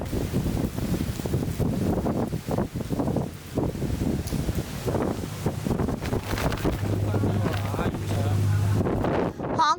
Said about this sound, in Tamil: மணிக்கு நூற்றி ஒரு கிலோமீட்டர் வேகத்தில் காற்று வீசியது